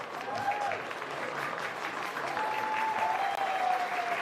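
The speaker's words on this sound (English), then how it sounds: "there'll be a clap through the tunnel" Spectators at an amateur rugby league match applaud steadily as the teams leave the field, a dense, moderately distant clatter of clapping with a faint whistle-like tone drifting above it.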